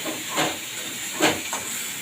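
Fish frying in very hot oil for a sour fish dish, a steady soft hiss with a few brief louder sizzling bursts, close and without talk.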